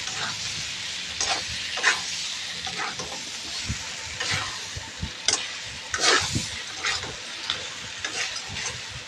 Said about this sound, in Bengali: পটলটা এখন আমি এর মধ্যে দিয়ে দিলাম, দিয়ে এখন ভালো করে নেড়ে দেব